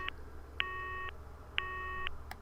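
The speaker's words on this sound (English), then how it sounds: "I tried dialing 110, Japan's emergency services, but the call wouldn't go through." In the Corpse Party horror game, a cell phone dials 110, Japan's emergency number, but the call fails: a repeating electronic beep-tone pattern, two short clean pulses per cycle, quiet and alone.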